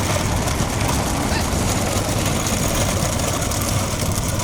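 Steady motorbike engine rumble running throughout at a bullock cart race, a continuous low droning motor sound with constant vibration and no pauses.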